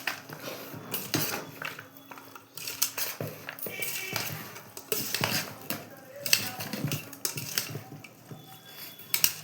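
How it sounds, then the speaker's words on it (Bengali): A ladle stirs and mashes chana in a metal pot, giving a continuous run of scraping and clinking knocks against the pot's sides, fairly close and busy throughout. "এরপরে আমি এই যে হাতা দিয়ে মাখাবো"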